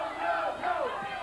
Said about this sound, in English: Doug has got a cheering section over here hollering, go, Doug, go.